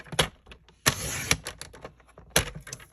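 Cardstock paper cut on a paper trimmer, a crisp slicing swish followed by clicks and taps as the paper is shifted and repositioned, close up and moderately loud, with another short cut at the end.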